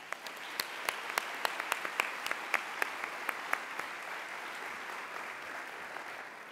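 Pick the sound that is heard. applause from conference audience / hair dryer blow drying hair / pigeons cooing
applause from conference audience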